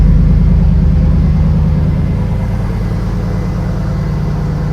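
A Chevy Tahoe with its muffler and resonator deleted idles after a cold start, a loud, steady, deep engine rumble that holds even throughout with no voices over it.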